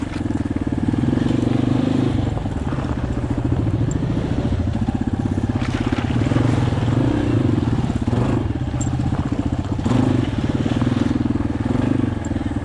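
Suzuki V-Strom 650 and XT250 motorcycles labour up an icy mountain trail, a steady loud engine drone with pulsing throttle changes and clattering throughout, with faint voices now and then.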